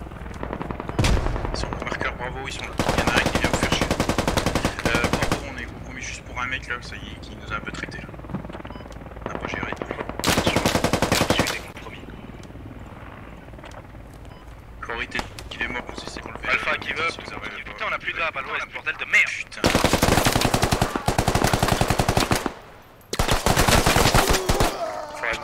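Heavy automatic gunfire in the military shooter game Squad, loud rapid bursts of rifle and machine-gun fire coming in repeated volleys, with players talking over comms between and under the shooting.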